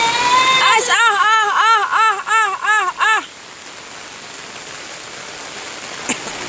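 Steady rain hisses throughout while a high, wavering voice rises and falls in a run of short repeated calls during the first half, then fades to rain alone.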